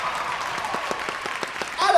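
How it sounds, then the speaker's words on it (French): Audience applause breaks out at an actor panel during a convention, quick claps over a steady hum. A voice rises at the very end as the clapping goes on. "Applaudissements!"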